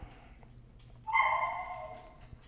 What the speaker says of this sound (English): listening to my whippet bark